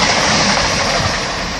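A mail train running through Wigan North Western station, a loud, close, continuous rumbling roar of engine and wheels that holds steady across the whole moment with no voices.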